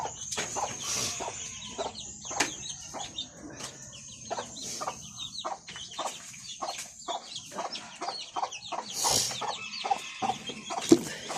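Repeated clucking and gobbling calls from a pet turkey at close range, with scattered sharp clicks and rustling between the calls.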